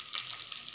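Ground spices (turmeric, salt, coriander, cumin and chili powders) with ginger-garlic paste frying in a pan for an Assamese fish gravy, giving a brief, steady close-up sizzle with no talking.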